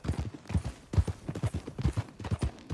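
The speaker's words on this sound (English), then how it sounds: "That a new horse?" Horse hooves clip-clop at a steady trotting rhythm in Red Dead Redemption 2, close and clear with no talk over them.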